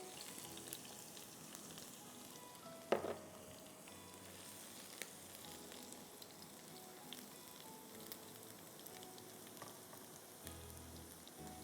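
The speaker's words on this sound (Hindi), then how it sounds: "गार्लिक को थोड़ा सा हम फ्राई करेंगे" Garlic frying in a pan, a faint, steady sizzle with a brief clatter near the start and soft crackling throughout, quiet and unbroken by talk.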